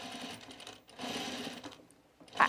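A sewing machine runs in two short bursts of steady whirring, understitching the neckline of a V-neck coat, with a brief pause between them and a faint click at the end, close by and fairly quiet.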